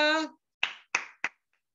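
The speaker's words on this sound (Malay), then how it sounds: "Tepukan juga" After a brief spoken voice, workshop participants give three distinct, separate claps close by, each sharp and quickly decaying, followed by near silence.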